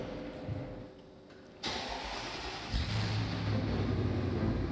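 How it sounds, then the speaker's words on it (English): A Batmobile replica car's engine starts near Moscow, a quiet stretch broken by a sharp crank and catch, then a loud rough rumble that steps up further and settles into a heavy, steady idle close by. "The Batmobile goes for a little spin."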